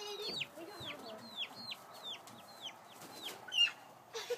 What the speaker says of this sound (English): There's her 3 baby chickens.